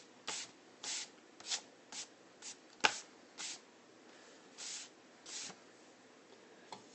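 Short soft swishes of a brush sweeping eraser crumbs off a pencil drawing on paper, about a dozen quiet strokes with one sharper tap, close and alone.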